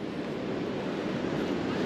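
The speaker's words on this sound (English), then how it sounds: "The sound coming off the water is just" Ocean surf on a beach at Panama City Beach, Florida, a soft continuous wash of waves with wind noise, distant and fairly quiet, with no voices.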